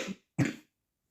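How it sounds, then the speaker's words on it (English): Two sharp coughs close up, a short one followed by a louder, fuller one, then silence. "I need a cough."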